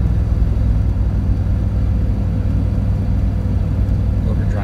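A Dodge Durango driving with overdrive switched off, its transmission lacking the overdrive gear, gives a constant low engine drone and road rumble from inside the cabin, steady and fairly loud throughout.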